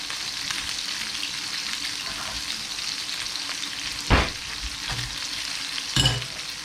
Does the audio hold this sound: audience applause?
no